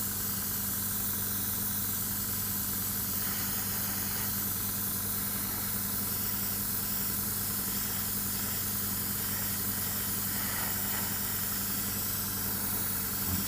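Airbrush spray hisses steadily over a low constant hum while weathering paint is applied to a model Millennium Falcon, faint and unbroken throughout.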